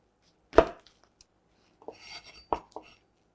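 Knife slicing fresh shiitake mushroom caps on a cutting board, a few sharp separate cuts with short pauses between them, close and quiet.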